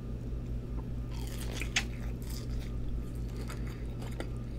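Birria queso tacos are bitten and chewed up close, with wet, squishy mastication and a few crisp crunches over a low steady hum, without speech.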